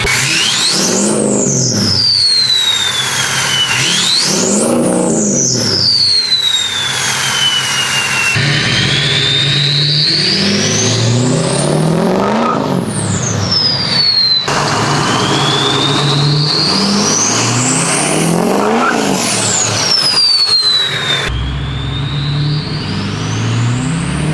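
A loud, roaring diesel truck engine with no exhaust tip runs steadily and close at idle, with rising and falling whining tones sweeping over the rumble.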